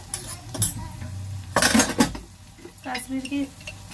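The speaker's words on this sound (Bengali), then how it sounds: "মশলাটা ভালো করে কষিয়ে নেব" Metal utensil scraping and clattering in a pan as ground spices — turmeric, chili, cumin, coriander and Kashmiri red chili — are stirred and fried, with irregular clinks and scrapes close up and louder bursts midway.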